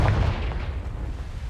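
A fiery blast spell explodes in the PC game Hogwarts Legacy: a single loud, deep boom up front that rumbles and fades over a second and a half.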